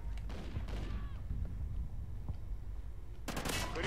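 Gunfire in the video game Ghosts: rapid bursts of automatic shots and sharp cracks over a busy, noisy battle mix, with a dense volley near the end.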